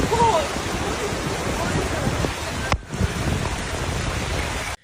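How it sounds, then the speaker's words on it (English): Heavy rain pours down during a flood in Nanyang, Henan, China, a dense constant hiss of rain with a brief break midway before it cuts off abruptly. "Nanyang experienced extreme rainstorms with rainfall exceeding 600 millimeters in 24 hours"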